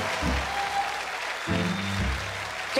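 A television talk show studio audience claps, a steady broadband patter of applause with low thumps and brief vocal sounds breaking in, moderately loud throughout.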